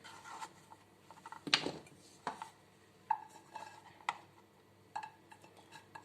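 Quiet, sparse metallic clinks and knocks as a cooking pot is picked up and set down, with soft rustling between.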